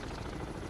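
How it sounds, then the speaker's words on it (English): Helicopter rotor chop in a submarine video game, a steady, loud broadband whir filling the moment with no talk over it. "That's a helicopter."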